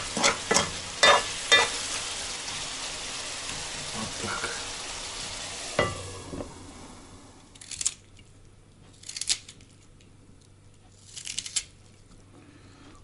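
Potatoes sizzle in a pan while a utensil clatters and stirs, followed by quieter frying broken by a few louder bursts of crackling.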